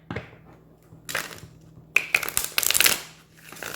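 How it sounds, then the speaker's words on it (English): Tarot cards are shuffled by hand in quick bursts: two or three loud riffling ruffles with a few soft taps between them, close up and with no talk. "I promise I know how to shuffle,"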